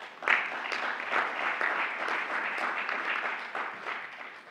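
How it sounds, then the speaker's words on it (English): A round of applause from an audience at an India and United States partnership event, sustained, even clapping with a sharp swell at the start, carrying on without talk. "I think that calls for a round of applause."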